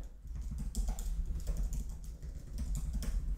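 Keys on a computer keyboard are typed in quick, soft, irregular taps, close by and fairly quiet, with no voice over them.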